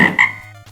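A single deep toad croak, edited in as a sound effect during Shatterhand NES gameplay, sounds loud and close, a raspy throaty burst that trails off in well under a second.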